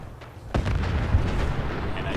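A single deep boom from an explosion in the Fallout 4 video game, hitting sharply about halfway through and trailing into a rumbling wash, with a voice talking over it.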